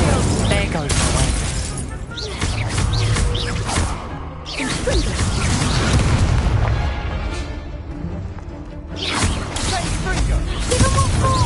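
Incendio fire spell casts in Hogwarts Legacy burst out as loud whooshing blasts and crackling impacts, several bursts separated by brief pauses amid ongoing combat noise, with voices heard at times.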